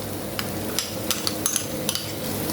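Vegetables and cream being stirred in a cooking pan, a steady wet scraping bed with a few sharp utensil clicks against the pan, close and moderately loud with no talk.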